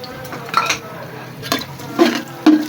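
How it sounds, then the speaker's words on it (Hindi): Whole spices, including black cardamom, cumin, cloves, black peppercorns and bay leaves, are tipped into browned garlic frying in a pot, giving a few distinct clinks and stirring scrapes over a low sizzle. "अब डाल देते हैं साबुत मसाले"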